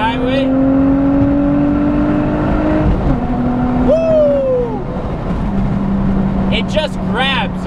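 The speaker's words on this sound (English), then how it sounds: "Do a little pull here onto the highway." Infiniti G35 with a stage 1 clutch and lightweight flywheel accelerating onto a highway, the engine note climbing through a pull and shifting, heard from inside the car with wind and road roar.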